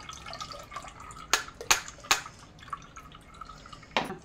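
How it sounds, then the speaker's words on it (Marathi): Strained ground spice paste drips and splashes into buttermilk, heard as a few sharp, close liquid plops and trickles spaced over a few seconds against quiet kitchen background. "त्याच्यात हा मसाला मी वाटून गाळून टाकून देते आता मी याच्यात"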